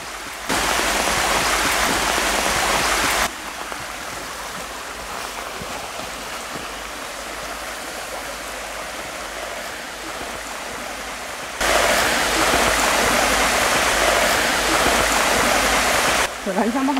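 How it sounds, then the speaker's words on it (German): Water from a lake flows in a stream with a constant broadband rush. It is loud at the start and end and softer in the middle, and people talk over parts of it. "Und das Wasser fließt in diese Richtung."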